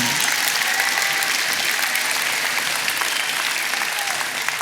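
A large crowd gives youth leaders a sustained, dense round of applause, loud and even throughout with a faint tone underneath before it tapers slightly at the end.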